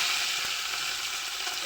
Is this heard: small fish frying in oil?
yes